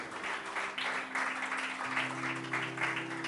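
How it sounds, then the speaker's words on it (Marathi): A church congregation claps in praise, steady rhythmic applause from many hands at moderate distance, sustained throughout over a faint background of held tones. "जरा जोरदार टाळ्या प्रभूच्या गौरवासाठी"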